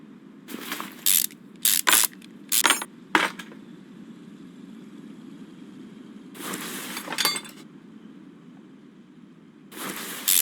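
Metallic clanks and tool clatter from a full engine teardown in Car Mechanic Simulator 2021, coming in short separated bursts with quiet stretches between and a steady low hum underneath.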